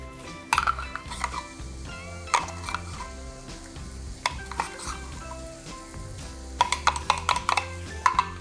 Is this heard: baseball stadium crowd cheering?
no